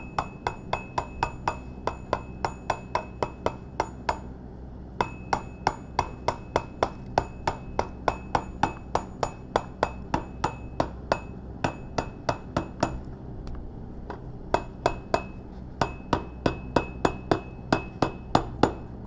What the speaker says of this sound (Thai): ของใหม่ต้องใช้ค้อนยางนะครับ ต้องใช้ค้อนยางนะครับ